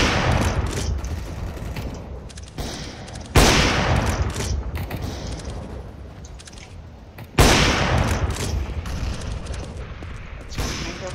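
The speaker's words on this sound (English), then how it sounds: "This guy shoots at everything, it's annoying." Gunfire in Counter-Strike: Global Offensive sounds as two sharp, loud blasts several seconds apart, each trailing off in a long, rumbling decay over steady background noise.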